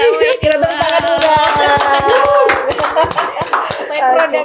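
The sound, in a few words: audience clapping hands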